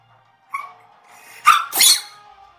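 A cartoonish sneeze sound effect for a giant crab in a children's story: a short breathy wind-up followed by two sharp, explosive bursts, isolated and close.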